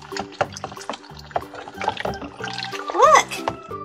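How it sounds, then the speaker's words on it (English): Luna Girl toy swished and rinsed in a container of water to clear off paint, with splashing, trickles and drips coming close and fairly loud, with brief voiced sounds mixed in. "Let's wash it all off."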